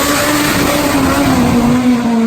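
Top fuel nitro drag racing motorcycle ridden by Larry "Spiderman" blasting down the strip, a very loud, dense, steady engine howl with a strong droning tone held close throughout.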